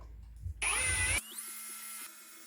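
A power drill bores holes into a wooden toy trailer, a short loud whir of about half a second followed by a quieter, steady whine.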